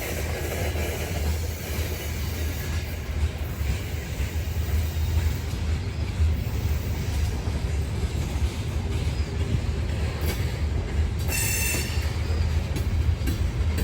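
A loaded freight train labors up a 1% grade on Kentucky's old Rat Hole line, a steady low rumble of locomotives and rolling cars holding near and loud throughout, with a brief higher squeal of wheels late on.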